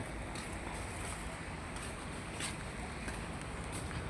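Continuous broadband rush of water and wind around a moving boat, steady and fairly loud, with faint splashes and no clear voices.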